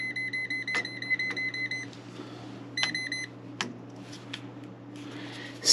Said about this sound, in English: when it beeps like that, that means that wire has power